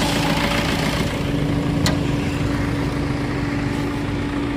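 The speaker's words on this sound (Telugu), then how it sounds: "మీకు మొత్తం బండి ఇంజిన్ కూడా చూపెడతా ఉన్నాను చూడండి." A Maruti Suzuki Ciaz car engine idles with a steady close hum and low drone, constant throughout with one faint tick near the middle.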